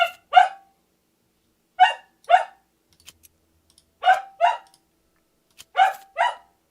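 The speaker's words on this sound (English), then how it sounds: "A bark? Bark." A dog barks in three spaced pairs of sharp, fairly loud woofs, each pair followed by a pause, with faint keyboard typing ticking in between.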